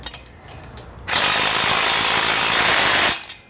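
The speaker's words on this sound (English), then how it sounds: "Open end wrench." An open-end wrench works on a swing assembly's bolts, producing a loud, steady mechanical rasp that holds for about two seconds and then stops, with quieter clicks before and after.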